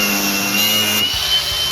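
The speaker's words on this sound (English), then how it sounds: "we're going to demo this guy and grind a little bit off of this piece of wood here." A Milwaukee M18 Fuel cordless grinder grinds a piece of wood, giving a loud, continuous whirring buzz that fills the short moment with no talk.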